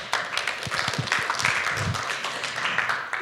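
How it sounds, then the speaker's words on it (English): An audience at a tech developer event claps for Arthur, a short, moderate burst of applause with scattered individual claps. "Applause for Arthur."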